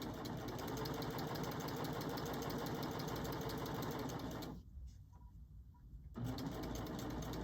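Fast, steady mechanical chatter of a serger sewing machine stitching turned straps, running close and continuous, then stopping for about a second and a half before starting up again, no talking.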